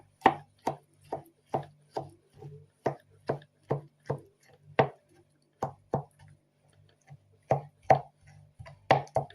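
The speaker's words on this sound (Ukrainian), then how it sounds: "зараз нарізаю на найменші шматочки, які у мене вийдуть" A knife chops eggplant into small pieces on a board, producing about twenty crisp, evenly spaced close thuds in a steady rhythm with no voices.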